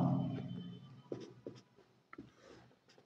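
A pen scratching on paper while a maths problem is worked out: short, quiet strokes and taps in an irregular rhythm, close up and faint.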